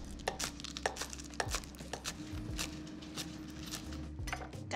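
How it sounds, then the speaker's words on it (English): Sharp knife chopping scallions on a cutting board in a home kitchen, a run of quick irregular taps with faint clinks, close and moderately loud, no voice. "I'm gonna chop some scallions"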